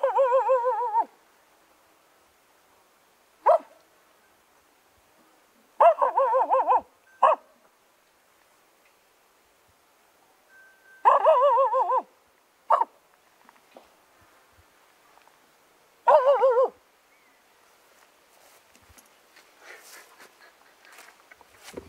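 A dog barks in short separated bursts of one or two yaps, spaced several seconds apart, fairly close and clear against a quiet background, with faint indistinct sounds toward the end.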